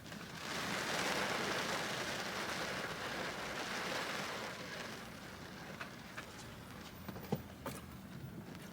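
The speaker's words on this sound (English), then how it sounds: "I don't know if you can fucking hear the rain" Steady rain falling outdoors, a dense continuous hiss that is heavier early on and eases after about five seconds, with a few sharper drops or taps standing out near the end. No one speaks.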